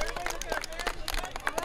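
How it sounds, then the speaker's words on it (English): Children clap together for the opposing team after a youth baseball game, with a few scattered hand claps and kids' chatter blending into an outdoor crowd hubbub. "Clap for the other team."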